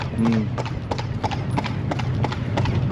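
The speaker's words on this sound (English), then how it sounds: "can't you feel the sound of the horse steps like ASMR?" Horse hooves clip-clop in a quick, steady rhythm during a ride, close and clear, with people talking over the hoofbeats.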